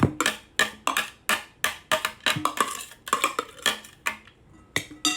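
A large kitchen mixing bowl being handled and set down while making Southern-style potato salad, giving a string of sharp, close clinks and knocks about twice a second, each ringing briefly before dying away, with no voices.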